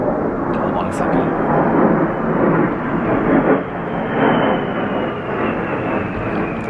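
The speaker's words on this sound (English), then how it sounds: "plane going by" An airplane passes overhead, a steady broad roar with no breaks that holds loud throughout and fades only slightly, with no talking over it.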